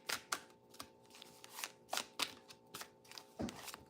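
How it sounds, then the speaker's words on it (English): Square tarot cards shuffled by hand during a live reading, a series of crisp riffling flutters and taps in irregular bursts, close and fairly quiet, with a faint steady hum underneath. "Shamrock, it is a little bit easier to shuffle the square cards than the round cards."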